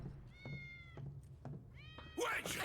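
Several short meows from a cat in the video game Final Fantasy VII Remake, close and distinct, with soft thumps between them. A louder burst of noise follows at the end.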